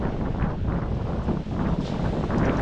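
Strong wind at Patungan Beach in Ternate, Cavite buffets the microphone in loud, gusty surges that rise and fall continuously over a low rumble, with no voices.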